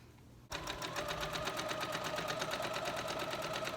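A sewing machine hems the top of an apron, starting abruptly after a moment of quiet and then running in a fast, even, rhythmic whir of needle strokes, close and steady to the end.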